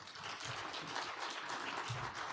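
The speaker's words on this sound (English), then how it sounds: "Mr. President, please welcome him with a round of applause." Applause from a conference audience welcoming a speaker, a continuous wash of clapping heard at moderate distance with no voices over it.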